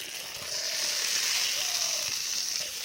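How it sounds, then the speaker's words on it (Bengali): Rice for pulao frying in a pan: a steady, close hiss and sizzle that holds throughout, with faint stirring scrapes underneath and no talking. "রাইস চলে গেল, এটাকে নাড়াচাড়া করবো হালকা, খালি হালকা একটু ভাজবো হালকা।"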